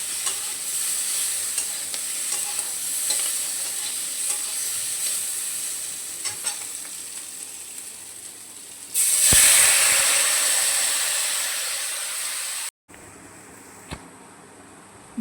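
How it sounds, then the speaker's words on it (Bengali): Masala for a thin Bengali prawn and potato curry sizzles steadily while being stirred with light scraping strokes, then a louder rush of water poured into the pan, followed by a brief cutoff and quieter simmering. "এরপর এটা একটু আলগা হাতে নাড়াচাড়া করে এর মধ্যে দিয়ে দেব জল।"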